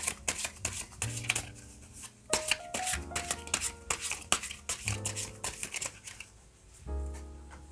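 Tarot cards shuffled by hand in repeated quick riffling bursts, crisp and close, with a soft tonal musical bed running underneath and no talking.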